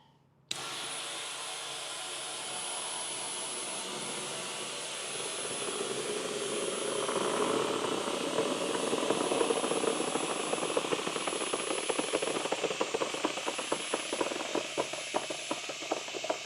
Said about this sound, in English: put in my monster chuck, and air it just like this